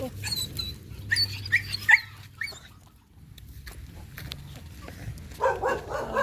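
A dog gives a few short yips and whimpery barks up close, followed by a quieter stretch and more animal noise at the end.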